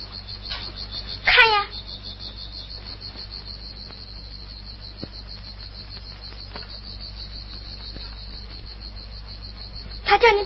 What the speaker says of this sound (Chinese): 老公公要你看看这个蝈蝈笼子呢